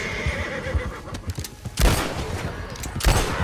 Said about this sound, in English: Now, quick, shoot them.